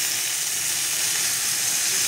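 Taro flowers frying in hot oil in a home kitchen, giving a steady, dense sizzle and hiss that stays even and close throughout, with no talking.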